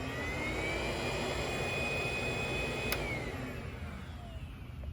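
A Henry HVB160 cordless vacuum cleaner runs steadily, a continuous close whine with a fairly soft airy rush and a high tonal hum, unchanging for the whole stretch with no talking.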